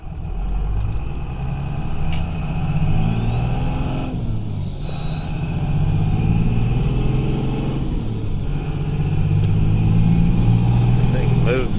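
A 2002 Dodge Ram 2500 with a 24-valve Cummins diesel and compound turbos drives along, its engine droning and rising with a wavering turbo whistle over it, with voices talking in the cab.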